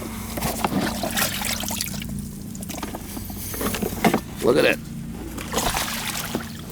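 Water leaks from an air conditioning vent in a ceiling, a sloshing, trickling spill with a few sharper splashes, heard under close talking from a man.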